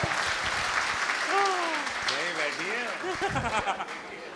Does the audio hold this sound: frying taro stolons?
no